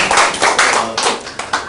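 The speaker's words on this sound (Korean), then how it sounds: "박수 한번 치주세요" A small group claps on cue in a room, the sound coming in several bursts of hand claps that rise and fall over a short stretch, with no talking.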